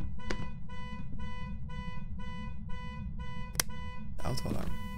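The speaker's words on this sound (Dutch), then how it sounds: "De auto alarm." Car alarm in a ghost-hunting video game: a steady, evenly pulsing electronic beep repeating about twice a second over background noise, with a few sharp clicks and a louder burst near the end.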